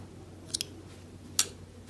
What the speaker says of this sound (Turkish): Bir zincir çekerek ipi kesiyorum.